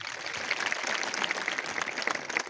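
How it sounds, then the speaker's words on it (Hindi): A seated crowd at a BJP foundation day rally in Reasi, Jammu gives a round of applause, a dense, steady patter of many hands heard at a modest distance, with no voices over it. "इनके लिए जोरदार ताली होना चाहिए"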